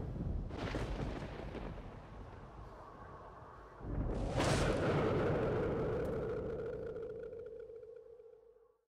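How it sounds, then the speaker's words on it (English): Thunderstorm rolling through in DayZ: two deep booming thunderclaps, the second louder and longer, rumbling off into a fading low drone, no talk. "Well, the storm's rolling through right now."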